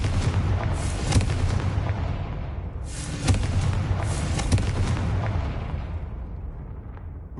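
Repeated Confringo spell blasts in Hogwarts Legacy, three heavy booming explosions about two seconds apart, each with a sharp burst and a long rumbling decay, no talk.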